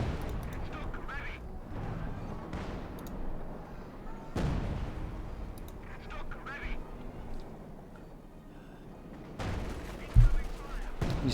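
StuG assault gun from Company of Heroes 2 bombarding, heard as a series of heavy, booming gunfire and artillery blasts in a busy battle scene, with a sharp loud impact near the end and commentary voices throughout.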